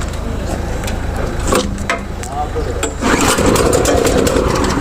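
A pesticide sprayer's small engine is started with a pull cord, giving rough pulls and sputters before it catches into a loud, steady running drone, with someone talking over it.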